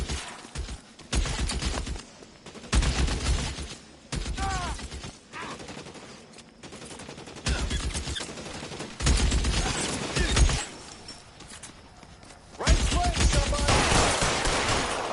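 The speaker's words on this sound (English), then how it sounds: "Somebody fire on that guy!" Gunfire in the video game L.A. Noire, loud bursts of rapid shots in repeated volleys separated by short gaps, some near and punchy, with occasional shouted voices between the bursts.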